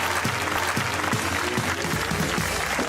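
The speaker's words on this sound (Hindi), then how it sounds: "तालियां होनी चाहिए" A studio audience on a comedy talk show breaks into sustained applause, a dense, even clatter of many hands clapping, with faint rhythmic thumps of music underneath.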